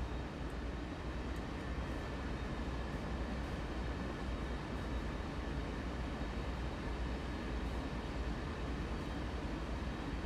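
A freight train in Train Sim World 2 rumbling steadily along the track, a constant low, dense roar with faint rhythmic clatter, no voices.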